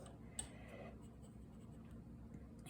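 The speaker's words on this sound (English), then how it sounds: "Get my charcoal pencil. Give myself a nice clean line." A charcoal pencil draws a line across paper, giving a soft, continuous scratchy stroke close up, with a brief tick near the start, over a low steady background hum.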